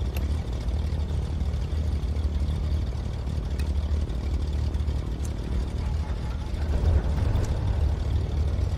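Twin aircraft engines idle in Microsoft Flight Simulator, a steady low droning rumble with faint clatter that grows slightly louder near the end, no talking.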